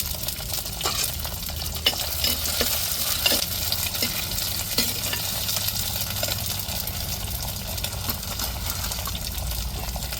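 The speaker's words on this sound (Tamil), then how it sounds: "வெங்காயம் நல்லா வதங்கிருச்சு" Onions and curry leaves sautéing in hot oil for a mutton dish, a steady loud sizzle and frying hiss throughout with occasional stirring scrapes, close up and without speech.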